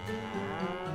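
Cattle in a video game lowing together when called, a low sustained moo that sounds close and steady, with no talking over it.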